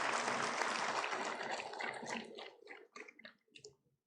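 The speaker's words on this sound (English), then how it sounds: "Huge round of applause from the audience," Audience applause at a university convocation in Kashmir fills the hall as a broad, dense wash that thins into scattered claps before fading out.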